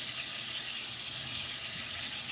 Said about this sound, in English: I'm just letting the water from the top drip back in